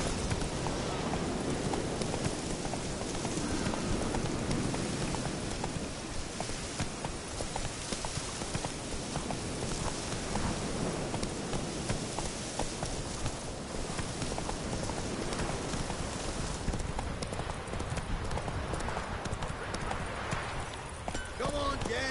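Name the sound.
horse galloping, hooves clip-clopping, from video game The Witcher 3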